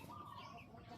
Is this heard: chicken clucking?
yes